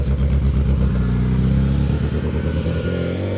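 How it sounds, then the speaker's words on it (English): A rally Mini with a straight-cut gearbox and RC40 exhaust revs hard on an asphalt rally stage, a loud, continuous engine roar with rough, clattering low-end rasp and slight pitch shifts, heard close and alone without any talk. "Straight cut gearbox of the Mini. RC40 exhaust."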